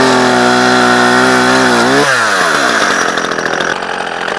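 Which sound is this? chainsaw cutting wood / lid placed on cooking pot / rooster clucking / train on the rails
chainsaw cutting wood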